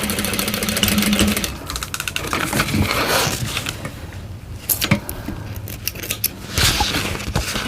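A sewing machine stitching a curved seam on a bowler bag, a close continuous mechanical whir with a brief stop and restart, some clicks and rustling of fabric, and no talking.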